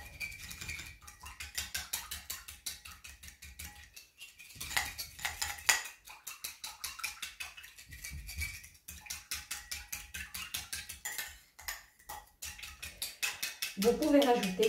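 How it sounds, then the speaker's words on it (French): A legume salad is tossed with its sauce in a bowl, a spoon clinking and scraping against the dish in a busy, near-continuous stirring rhythm with a few brief pauses. "On va mélanger tout ça. pour avoir une belle sauce"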